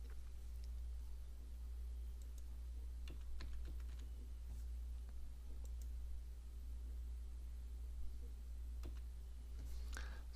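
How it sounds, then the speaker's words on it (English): Code typed on a computer keyboard, quiet irregular key clicks scattered over a steady low hum, a faster cluster of taps near the end. "and type this code."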